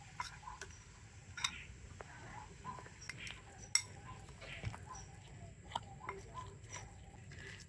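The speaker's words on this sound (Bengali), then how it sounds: "তো একটু চামচ দিয়ে প্রথমে এইভাবে মিশিয়ে নিতে হবে।" A spoon stirs a thick, stiff food mixture in a bowl, producing soft irregular clicks and scrapes at close range, quiet and sporadic over a low background.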